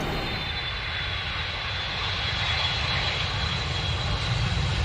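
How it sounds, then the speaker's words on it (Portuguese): Steady, loud airliner engine roar heard from inside the cabin on a roughly five-hour flight from Santiago, Chile, across the Pacific to Easter Island, a continuous broadband drone with no breaks. "Nossa viagem de avião durou cerca de 5 horas."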